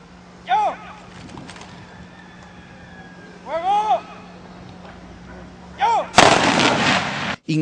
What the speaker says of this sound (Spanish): César Flores Guzmán, dispararon una salva de honor.